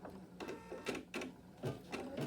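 A sewing machine running a quilting placement stitch, rapid mechanical stitching bursts repeating every half second or so, close and steady with no talk.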